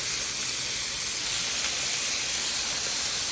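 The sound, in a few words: bacon sizzling on a Blackstone griddle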